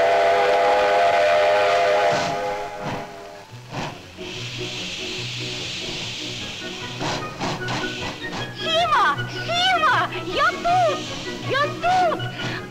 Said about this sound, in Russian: Скоро поезд уходит!